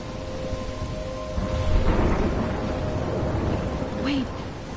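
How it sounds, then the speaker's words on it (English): A video game thunderstorm fills the scene with steady, heavy rain on surfaces and a deep rolling rumble of thunder that swells midway, loud and enveloping, with no talking. "I'm trapped in a storm?"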